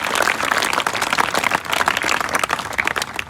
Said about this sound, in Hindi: तो जोरदार तालियां अपनी दौड़ के लिए।